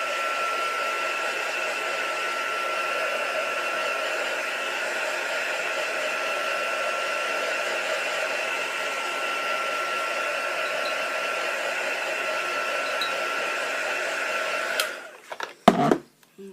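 A handheld hair dryer blows with a steady, loud whirring hum while drying paint on a mixed media artwork, then cuts off with a few knocks and handling sounds at the end.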